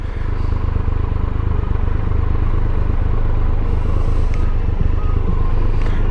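Engine of a 2017 Triumph Tiger Explorer XCx motorcycle on the highway: a loud, continuous, even rumble with wind noise, steady throughout.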